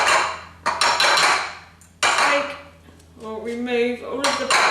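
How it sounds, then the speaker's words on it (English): Buckwheat is knocked out of a colander into a bowl with a string of loud, close clattering bangs in two bursts, then a quieter rattling tail. "remove all of the buckwheat in the sieve, in the colander. I'm sorry about the noise"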